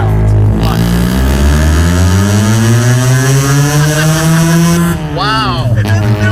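A rotary engine in a pickup truck revs loud and close, its pitch climbing steadily to a peak and then falling away, with a brief blip and a second rev near the end.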